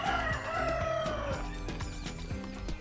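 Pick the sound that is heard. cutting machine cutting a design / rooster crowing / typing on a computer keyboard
rooster crowing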